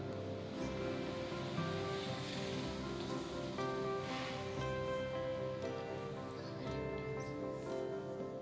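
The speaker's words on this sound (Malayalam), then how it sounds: "ചൂടുവെള്ളമാണ് നമ്മളിതിൽ ഒഴിക്കുന്നത്." Hot water poured into a pot of rice for Arabian mandi makes a steady, rushing splash that carries on evenly at close range, with no talk over it.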